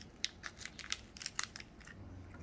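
Dried luo han guo fruit being broken open by hand, a quick series of close, crisp cracks and crunches of the brittle shell.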